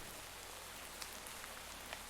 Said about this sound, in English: Oh, see, it started raining again.